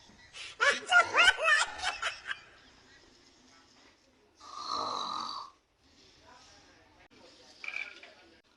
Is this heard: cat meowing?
no